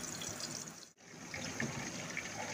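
Seekh kababs frying in hot oil in a frying pan, giving a steady, dense sizzle close by, with one brief dip before the crackling resumes.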